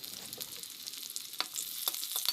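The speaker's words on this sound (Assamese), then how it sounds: "এতিয়া কেৰাহীখন বহাই মিঠাতেল দি পিয়াজ দি দিলো," Onions frying in mustard oil in a kadai for fish curry, a faint steady sizzle with soft crackles and a few sharper pops near the end.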